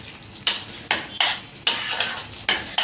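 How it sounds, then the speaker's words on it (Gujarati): A spoon scrapes and knocks against a pan while red chilli chutney is stirred in oil, giving six sharp metallic strokes at a steady, unhurried pace, close and clear with no talk. "એને થોડીક વાર આપણે હલાવશું, એટલે જે તેલનું કાસું પણ હોય ને એ બધું મિક્સમાં શેકાઈ જાય ને, મિક્સ થઈ જાય સરખુંથી બધું."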